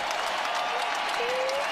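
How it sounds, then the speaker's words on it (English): A basketball arena crowd cheering and applauding, a dense roar with clapping and a couple of rising whistles or shouts, loud and continuous. "Listen to this crowd."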